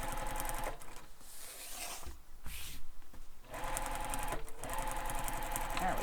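A sewing machine stitches a backpack in close, rapid bursts with brief pauses between runs.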